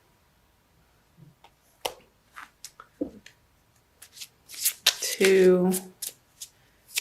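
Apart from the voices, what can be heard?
shuffling oracle cards, Crystal Wisdom Healing Oracle deck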